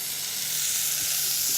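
Steady, loud sizzling of sausages frying in a hot pan, a dense continuous crackle with faint soft bumps underneath.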